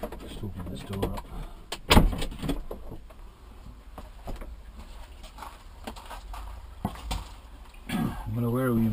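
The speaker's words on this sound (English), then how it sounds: "Just open this door up." A door is opened in a small workshop area, with a sharp knock and latch click followed by quieter handling noises and a mechanical whir near the end.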